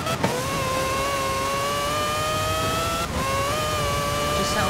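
A Mazda RX-3 rotary engine in Forza Horizon 4 screams at high revs in a steady, rising, buzzing wail, dropping briefly at a gear shift before climbing again, loud and close with no talking.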